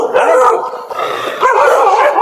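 Dogs bark and yelp loudly a few times in quick succession during a rural Punjabi comedy skit, with sharp yelps mixed with drawn-out howl-like cries and no talk over them.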